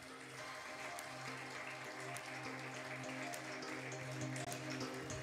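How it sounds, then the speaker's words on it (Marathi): Steady, dense applause fills a hall at a thanksgiving service as a student comes forward, continuous and fairly even throughout, over a low electrical hum. "आराधना येत असताना जोरात टाळ्या झाल्या पाहिजेत"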